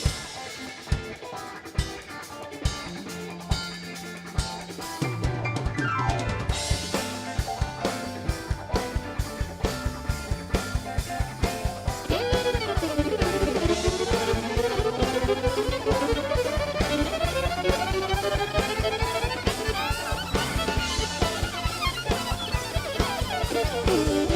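A fast fiddle tune with a full band behind it, a steady driving beat and sliding, bending bowed notes, lively and upbeat.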